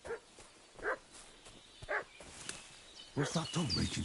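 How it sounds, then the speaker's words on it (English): A dog in the medieval game Kingdom Come: Deliverance II barks in a few separate short yelps at a distance, with a voice and other game sounds joining toward the end. "What's that dog making such a fuss about?"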